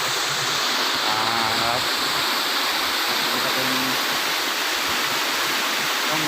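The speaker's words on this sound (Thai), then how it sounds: "รอบๆครับเป็นน้ำตกนะครับ" The Ban Thap Khon waterfall at Phato, Thailand, rushes in a constant loud broadband roar of falling water close by. A faint voice is briefly heard beneath it.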